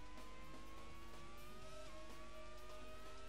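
A Formula 1 race car in a video game slowing for a left-hand corner, the engine whine dropping steadily in pitch through downshifts, loud and continuous with no voices.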